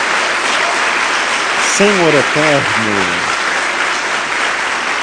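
A church congregation applauds during a sermon on the temptation of Jesus, with dense, continuous clapping throughout and a voice speaking briefly over it midway.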